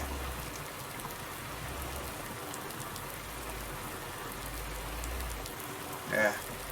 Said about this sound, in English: it really is heavy rain with an autumn thunderstorm